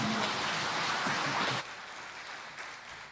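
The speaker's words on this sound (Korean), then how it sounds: "하나님께 영광의 박수 올려드립니다." Church congregation applauding during a Sunday worship service, a dense steady clatter of many hands that cuts off abruptly partway through, leaving a quieter room tone.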